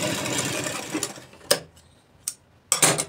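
A sewing machine stitches a pocket onto palazzo pants in a fast mechanical burst that stops, followed by a few sharp isolated clicks and a short final whir, close and moderately quiet.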